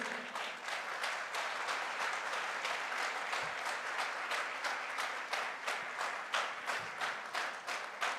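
Audience applause at a Goa diamond-promotion celebration event, a continuous moderate wash of many hands clapping with a rhythmic pulsing quality, somewhat distant and subdued, no speech over it.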